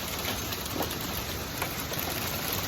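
Hail falling during a storm in Cedar Park, Texas, makes a dense, steady pattering roar that is loud and close, with scattered sharper hits and no voices.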